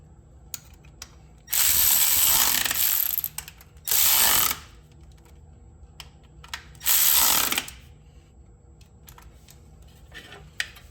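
A ratchet snugs up bolts on the 4wd actuator of a Ford F150 in three loud, close bursts of rapid clicking separated by quiet pauses and small handling noises.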